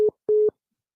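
Telephone busy signal on a phone that is not working: a steady mid-pitched tone sounding in two short, clean, evenly spaced beeps separated by silence.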